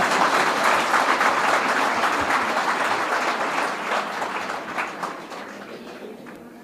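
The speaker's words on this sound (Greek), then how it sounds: "Τώρα να χειροκροτήσετε." An audience applauds after a church leader's talk, a dense wash of many hands clapping together that starts full and gradually thins and fades over several seconds.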